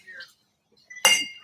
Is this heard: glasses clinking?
yes